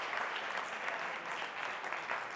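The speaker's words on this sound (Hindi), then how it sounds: "एक बार जोरदार ताली होनी चाहिए।" Loud round of applause from students in a classroom, a dense, steady patter of many hands clapping together, sustained evenly from start to finish with no talk.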